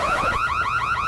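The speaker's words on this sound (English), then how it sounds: "Whose job was it to turn off the front door alarm?" A front door alarm blares continuously at close range, a loud two-tone warbling siren that sweeps up and down in steady repeating cycles, alone without talk.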